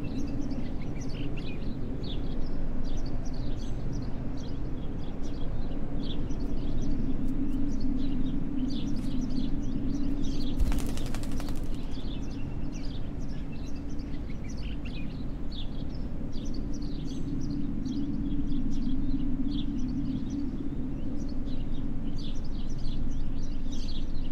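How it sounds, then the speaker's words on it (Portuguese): Small birds chirp and tweet steadily over a low ambient drone in the video game Martha Is Dead, with repeated faint calls spread across the scene and one brief louder burst partway through. "Aquele corvo que matou o passarinho."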